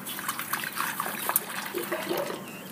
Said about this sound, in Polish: Możemy teraz nalać wody do środka.